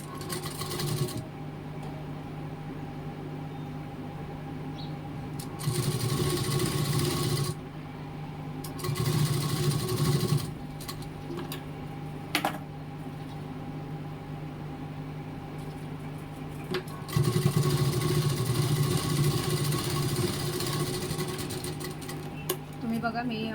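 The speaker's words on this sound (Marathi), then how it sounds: "त्याच्यावरती शिलाई मारून घेऊया आपण." A sewing machine stitches a puff sleeve blouse, running in steady whirring bursts close by with short pauses between runs.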